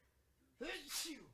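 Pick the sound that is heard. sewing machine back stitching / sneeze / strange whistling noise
sneeze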